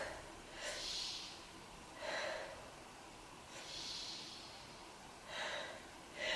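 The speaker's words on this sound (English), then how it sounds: "And let's take 3 breaths." Slow, deep breaths taken during a beginner yoga session for strengthening the knees: four soft, airy inhale-exhale swells spaced a couple of seconds apart, close and fairly quiet.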